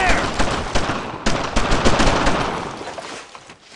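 Dense, loud gunfire from the World War II video game Brothers in Arms: Road to Hill 30, with rapid automatic bursts and overlapping shots continuing almost without a break.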